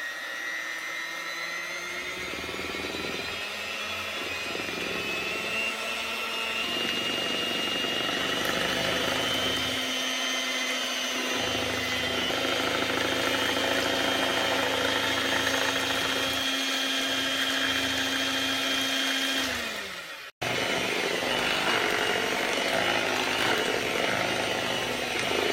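An electric mixer whirs loudly and continuously as it beats cake batter with milk, a steady motor drone with shifting pitch that drops and cuts out abruptly near the end before restarting.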